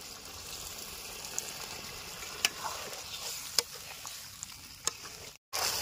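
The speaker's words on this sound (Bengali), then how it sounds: "এখন দিয়ে দেবো হালকা কর্নফ্লাওয়ার গুলে রাখা জল" Cornflour mixed in water poured and stirred into a hot frying pan, a soft steady sizzle with a few faint scraping clicks, close by and with no talking.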